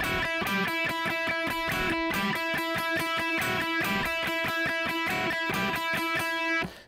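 Electric guitar playing a guitarist's part from a song, a repeating, fairly fast picked rhythmic pattern with ringing high notes, steady and prominent with no talk.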